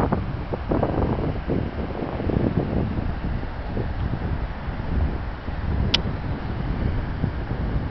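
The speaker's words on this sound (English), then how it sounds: "Right now it's just cold and windy." Cold wind buffeting the microphone in a park overlooking the Firth of Forth, a steady low roar and rumble with gusty fluctuations throughout, close and continuous with no talk.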